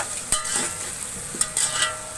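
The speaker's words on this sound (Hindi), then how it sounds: "अब इसको मैं थोड़ी देर भून लूंगी।" Garlic paste mixed with raw turmeric fries in a pan, giving a steady soft sizzle with a few scraping stirs on top and no talking.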